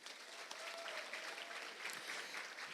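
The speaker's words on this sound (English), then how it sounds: "Let's give a round of applause to Heather Woodruff." An audience at a teacher of the year celebration applauds a teacher, a continuous, even patter of many hands clapping at a moderate distance.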